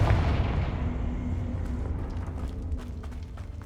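A booming blast from the Confringo spell in Hogwarts Legacy, a heavy low explosion rolling off into rumble with scattered crackling debris afterward.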